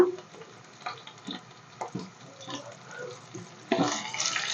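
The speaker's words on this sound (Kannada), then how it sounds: "ಈರುಳ್ಳಿ ಚೆನ್ನಾಗಿ ಫ್ರೈ ಆಗಲಿ ಸ್ವಲ್ಪ" Onions fry in a pan for sweet corn ghee rice, with moderate sizzling and frequent stirring scrapes. The frying grows louder and brighter toward the end, and no voices are heard.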